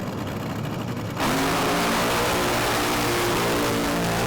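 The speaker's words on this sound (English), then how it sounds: "Darren Morgan going through the burnout procedure" Drag racing car engine roaring loud and steady during a burnout, starting after a brief quieter stretch and holding at full volume to the end.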